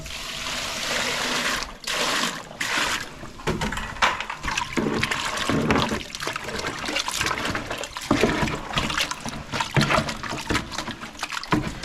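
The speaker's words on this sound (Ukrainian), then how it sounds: "Все, наливаю далі водичку." Water poured into a barrel at a farmyard feeding area, a steady broadband splashing and gushing that runs continuously with brief dips, close and fairly loud, with no talking.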